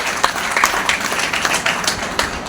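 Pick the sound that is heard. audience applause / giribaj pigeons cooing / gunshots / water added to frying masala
audience applause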